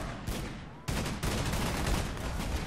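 Gunfire aimed at the Hades boss during a Half-Life battle, rapid bursts of shots and heavy blasts layered densely, with a brief drop before loud volleys resume.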